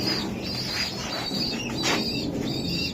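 Racer pigeons at a sale, with soft coos and chirps over a steady noisy background, moderately faint and continuous throughout.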